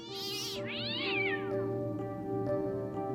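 A cat meows in the Fran Bow video game, a long drawn-out cry that rises and falls over a steady musical drone, loud and close, with no talking.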